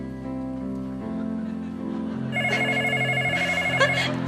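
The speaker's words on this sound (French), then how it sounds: "Tiens, le téléphone sonne." A telephone rings with a steady electronic trill that grows brighter partway through, over a background of musical tones and faint chatter.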